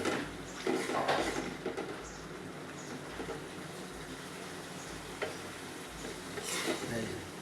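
Dried meat shutki is stir-fried in a pan as a bhuna, with soft sizzling and intermittent stirring and scraping sounds, fairly quiet and close, with no speech.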